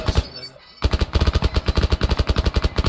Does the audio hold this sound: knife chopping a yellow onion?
no